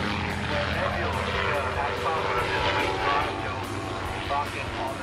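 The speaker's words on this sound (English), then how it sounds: "That is a training aeroplane. It's actually a training aeroplane." Training aeroplane flying overhead, a steady propeller engine drone with rhythmic pulsing, heard at moderate distance beneath a voice talking.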